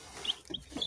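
A newly hatched Adler chick peeps in a homemade box incubator, giving three short, shrill chirps evenly spaced and faint but clear, with no one speaking.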